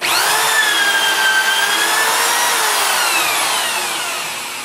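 A T-Drill HFT-2000 tube drilling machine cuts a hole in a tube, a loud steady high whine with shifting tonal overtones that holds for nearly five seconds before easing off slightly, with no voices.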